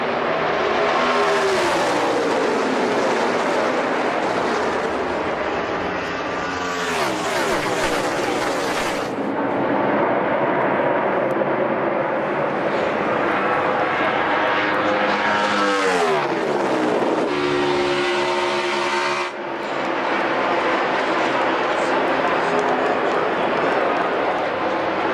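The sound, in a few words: NASCAR stock cars racing side by side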